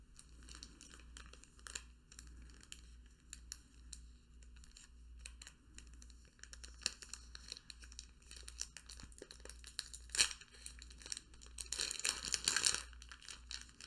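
Yu-Gi-Oh! card pack wrapper crinkled and torn open up close, with soft continuous crackling broken by sharper rips that swell into a louder burst of tearing near the end.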